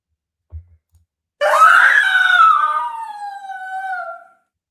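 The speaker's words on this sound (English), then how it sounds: "So let me run through some screams real quick." A voice acting a Homelander scream lets out one loud, sustained, wavering shriek lasting a few seconds that falls slightly in pitch, recorded close and dry after a brief soft thump.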